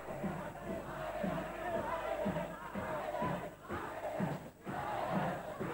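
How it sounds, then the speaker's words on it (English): Crowd at a 1994 boxing final in Bangkok chanting rhythmically in unison for Thailand, a loud, pulsing roar of many voices filling the arena with a few thuds under it. "Crowd chanting, Thailand, Thailand."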